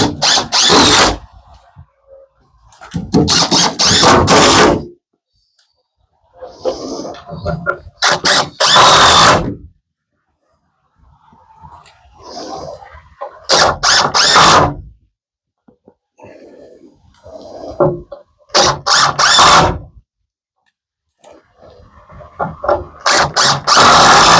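A power drill whirs in short, loud bursts, about five of them, separated by quieter pauses with faint movement and low voices, during roof decking and hurricane tie installation on a small building.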